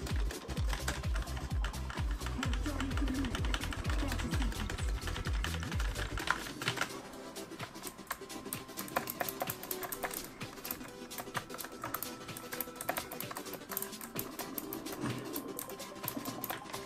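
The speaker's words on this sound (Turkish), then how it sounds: "Aynı anda 5 tuşa birden basıyorum." Rapid keystrokes on a gaming keyboard, several keys pressed at once in quick bursts, with dense loud clatter at first and then lighter, steady tapping over a low background.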